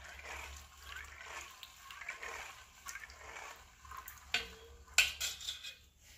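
Water sloshes and trickles as soaked soybeans are rinsed in a bowl, with soft splashes and a couple of clinks against the container.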